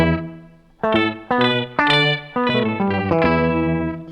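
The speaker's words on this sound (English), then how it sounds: "choirs or that organ sound on your guitar" Electric guitar run through a PedalPCB Organ Donor DIY pedal set for an organ and choir effect, several loud sustained chords struck one after another, each swelling with a thick, shimmering synth-like tone and a little reverb tail, no talking.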